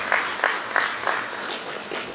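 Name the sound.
applause for the Minister at a town hall meeting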